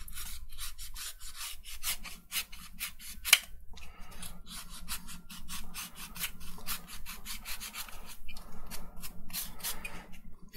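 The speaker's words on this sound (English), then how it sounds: "And now I will try to cut in this bevel here." A blade cuts a bevel into cardboard for a Darth Vader helmet, producing quick, repeated scraping and rasping strokes at close range with a steady rhythm.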